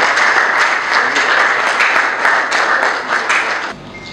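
An audience at a book launch claps loudly in a thick, sustained burst with scattered sharper claps, then the applause stops abruptly near the end.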